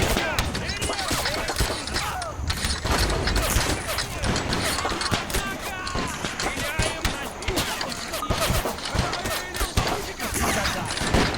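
Howitzer and musket fire from a Napoleonic war video game depicting the Battle of Borodino: dense, continuous crackling volleys and booming shots that overlap without pause, with a voice talking over the battle.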